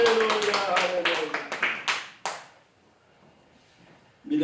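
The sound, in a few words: congregation clapping in church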